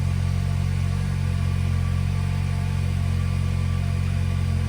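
A 2022 Toyota Corolla fitted with a K&N short ram intake runs in a garage just after starting, a steady loud idle hum with no talk.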